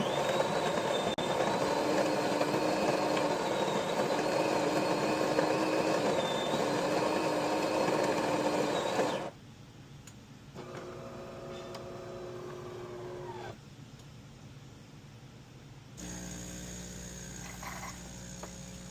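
DeLonghi espresso machine pump pulling a shot of espresso, a loud steady buzzing hum with a tonal whine that drops to a quieter, intermittent drone partway through.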